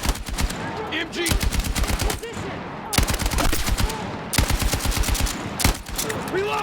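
Machine gun fire in the Battlefield 6 video game campaign: loud, close sustained bursts of rapid automatic shots, separated by short pauses, with distant shots and voices mixed in beneath.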